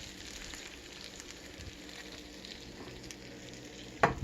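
Food frying in a pan for a Puerto Rican dish is stirred, giving a soft, steady crackling sizzle throughout. A sharper utensil clack against the pan lands near the end; no one speaks.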